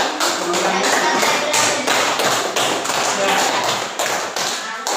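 A classroom of students gives a student group a round of applause, a dense, loud burst of many hands clapping that continues steadily for several seconds.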